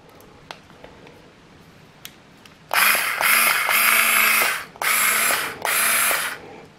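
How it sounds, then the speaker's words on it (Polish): A Kawasaki cordless drill driver whirs in several loud bursts of high-pitched motor whine separated by short pauses, each burst starting abruptly after a few quiet clicks, heard close up with no talking. "Tak, tutaj nasza wkrętareczka."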